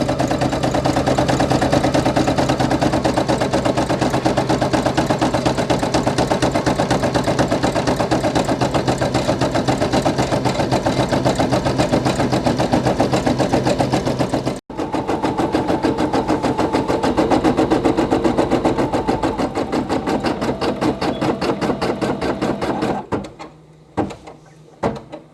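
A Brother PE800 embroidery machine stitches out a patch, a rapid, even mechanical chatter running continuously with one brief break, then slowing and stopping with a few final clicks.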